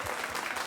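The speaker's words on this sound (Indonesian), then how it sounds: "Para bocah nanas, boleh tepuk tangan untuk bocah nanas." Live podcast show audience applauding, a brief burst of dense, even clapping from a crowd, moderately loud and close.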